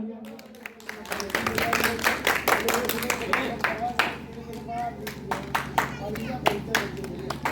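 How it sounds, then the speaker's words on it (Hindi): An audience at the Anmol Natya Samaroh 2023 theatre festival claps after the lamp-lighting ceremony, a sustained run of sharp, fairly close handclaps that grows after a quiet start, with a voice speaking over it. "एक बार जोरदार तालियां।"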